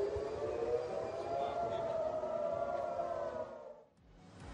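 A sustained wailing air raid siren in Israel drones steadily for several seconds, loud and continuous, after a Hezbollah attack, then cuts off abruptly near the end.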